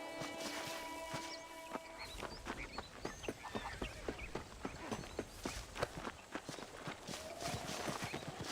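Horse hooves clip-clopping at a steady walking pace while riding in Red Dead Redemption, a regular train of close, crisp hoof strikes over a low outdoor ambience.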